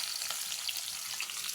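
Onions sizzle steadily in hot oil with whole spices in a pan, a continuous close crackling fry with no voices.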